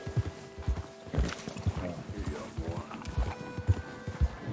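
Horse hooves clip-clopping in Red Dead Redemption 2, a steady walking rhythm of soft thuds, fairly quiet, with faint game ambience behind.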